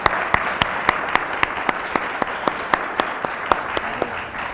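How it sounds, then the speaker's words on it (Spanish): An audience applauds at a talk on finding purpose through ikigai, a dense wash of clapping with a few sharp, louder claps standing out at a regular pace, sustained and fairly close. "este público tan maravilloso, un aplauso para Francés."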